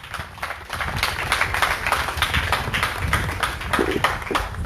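Audience at a firefighters' congress clapping for the deputy mayor, a dense, even patter of many hands close by, sustained throughout with no talk on top.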